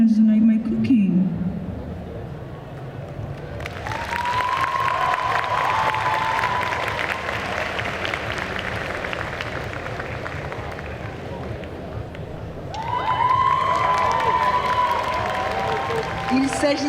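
An audience at a cosplay competition claps and cheers for a Spy X Family skit, a long swell of applause and crowd noise broken by whistles, with a voice talking over it before the cheering rises again.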